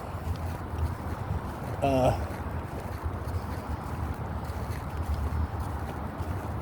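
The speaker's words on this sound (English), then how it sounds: "Now the wind's blowing, which is nice." Wind blowing outdoors at a wet park makes a steady, loud rushing roar buffeting the microphone for the whole stretch, with a brief chirping sound partway through.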